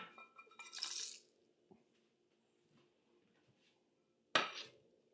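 Toasted ingredients tipped into a mortar and pestle for a red curry shrimp noodle salad: a light clatter and scrape of stone and utensil, then a quiet pause and one sharper clink near the end.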